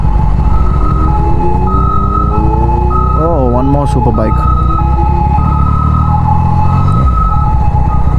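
An ambulance siren wails and warbles nearby over heavy night traffic rumble in Phuket, heard from a Yamaha MT-09 motorcycle, with a person talking briefly over it.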